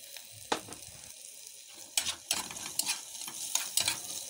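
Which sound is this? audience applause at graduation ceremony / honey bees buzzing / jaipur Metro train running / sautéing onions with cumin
sautéing onions with cumin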